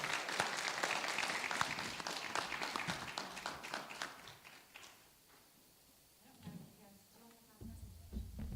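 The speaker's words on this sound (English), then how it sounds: "Can we get a round of applause for our presenters?" An audience at a first-time home buyer's workshop claps for the presenters, a brisk burst of applause that fades out after a few seconds, followed by quieter room noise and a few thumps.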